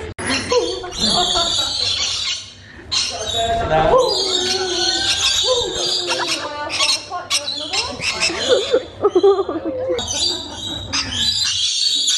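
A parrot squawks and screeches repeatedly, loud and close, while people talk and react around it at a safari park.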